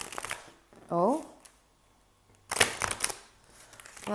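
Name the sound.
riffle shuffling a card deck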